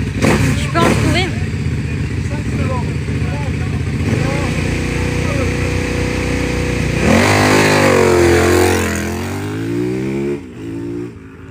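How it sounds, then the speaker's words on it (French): A rally motorcycle pulls away from the start of a special stage at a Charente rally, its engine revving up through rising gears from close by, with people talking over the engine noise. "J'attendais que la moto parte."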